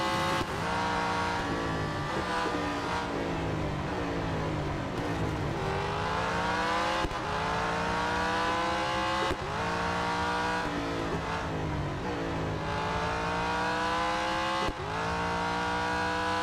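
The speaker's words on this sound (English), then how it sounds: "This is such a fun car to drive." Race car in Real Racing 3 revving hard through repeated gear shifts, each climbing engine whine dropping sharply at the shift, loud and continuous with no talk.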